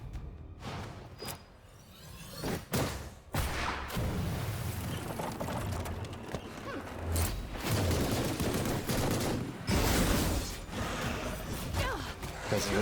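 Gunfire in the video game Ruined King, dense bursts of shots and clattering mechanisms over a loud, busy game soundtrack, with a voice speaking briefly amid the action.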